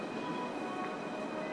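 Train standing at a platform in Sendai station, a steady dense rumble and hiss with a high tonal whine held throughout, moderately loud and continuous with no talk.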